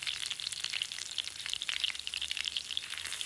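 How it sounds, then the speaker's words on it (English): Onions spit and crackle in melted butter inside a clay pot, a steady close sizzle with dense, irregular pops and no talking. "Once it starts melting, we will add the onions."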